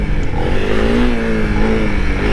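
A Honda CRF300L dual-sport motorcycle revs hard in second gear, its engine note climbing and holding steady, loud and close throughout with no talk.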